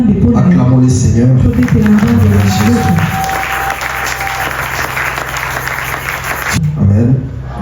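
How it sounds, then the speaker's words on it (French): A church congregation bursts into loud, close applause mixed with voices, which thins into a lingering patter before talk resumes at the end. "Acclamons le Seigneur."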